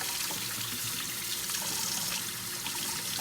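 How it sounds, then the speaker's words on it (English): Hot water pours steadily into a pressure cooker of southern-style oxtails, a continuous close splashing and trickling with no talk. "now you just add your water"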